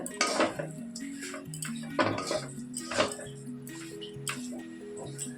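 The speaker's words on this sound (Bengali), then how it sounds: "বেসনটা দেওয়ার পরে এরকম করে শুকনো শুকনো ভেজে নিতে হবে" Gram flour and capsicum dry-roasted in a pan, a spatula clinking and scraping against the metal in irregular bursts of bright taps over a soft, steady tonal background.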